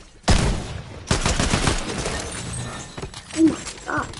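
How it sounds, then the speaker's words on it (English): Gunfire in the video game Fortnite erupts as loud, rapid bursts of shots that rattle on and off, followed by further scattered shots and game sounds. "I hear a gunshot."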